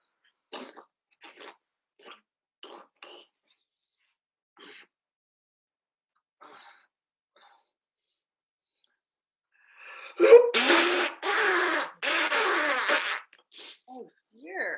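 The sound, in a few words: sneeze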